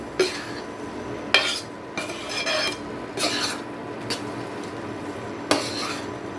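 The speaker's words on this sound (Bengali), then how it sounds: "এই ডিমের ভুজিটাকে এই ডালের সাথে খুব ভালো করে মিশিয়ে দেবো" A spoon scrapes and clinks against a pot while fried egg bhuji is mixed into thick lentil dal, giving several sharp metallic taps among steady rubbing and stirring strokes, close up with no talking.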